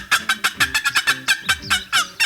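A hand-held turkey call imitating a wild turkey, with a rapid run of about a dozen sharp, excited yelps and cutts in a quick irregular rhythm, close and loud, with no one talking.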